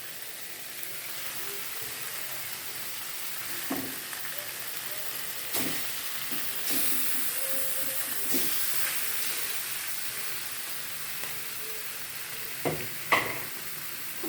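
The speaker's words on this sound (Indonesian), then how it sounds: "Kalau bumbunya udah matang, saya masukkan dagingnya." Sliced beef stirred into cooked spice paste frying in a pan for Indonesian beef and potato stew, giving a steady hiss and sizzle with occasional scraping knocks of the utensil.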